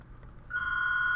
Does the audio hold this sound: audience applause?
no